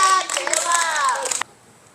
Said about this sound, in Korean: 자 우리 모두 박수 한번 칩시다